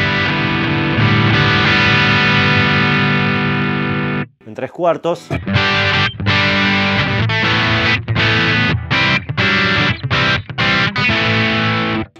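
Electric guitar through a J. Rockett El Hombre overdrive pedal with the gain turned up, loud distorted sustained chords with a brief pause and choppy rhythmic strums, someone talking briefly over it.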